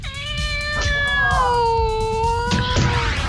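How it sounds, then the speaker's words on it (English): A cat meows loudly and close by in a long, drawn-out, wavering cry with a second rising yowl near the end, heard over a steady low room hum during a tech talk show recording. "Oh, kitty."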